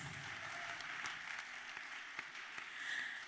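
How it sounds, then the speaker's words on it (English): Audience applause, a quiet, steady patter of clapping from a crowd that stays fairly even throughout with a slight swell near the end. "I think he needs to be applauded for this."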